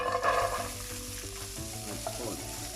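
Onion and carrots sizzle and are stirred in a hot pan for egg fried rice, a continuous close frying hiss with a spatula moving through the vegetables, while tonal music plays underneath.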